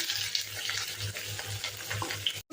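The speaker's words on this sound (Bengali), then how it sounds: "আর হলুদ দিয়ে সিমটাকে নাড়াচাড়া করবো, সিম আর আলুটা।" Beans and potatoes stir-fried in hot oil with turmeric in a wok, a steady close sizzle with rhythmic scraping and stirring strokes, cutting off abruptly near the end.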